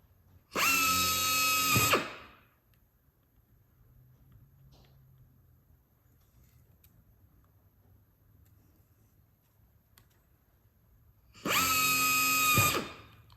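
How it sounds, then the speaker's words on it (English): Two short, loud whines from a power drill boring holes in parts of a Van's RV-12 aircraft kit, each burst about a second and a half, separated by a long quiet stretch with faint shop noise. "So let me recheck this and we'll drill some holes."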